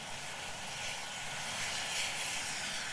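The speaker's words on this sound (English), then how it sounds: "Pretty sure it's the first time I've been bombarded by a helicopter while out minding my own business." An air ambulance helicopter, Hampshire and Isle of Wight Air Ambulance, flies overhead with a steady, loud rotor and engine roar and broadband wash that swells slightly toward the middle and holds for the whole stretch.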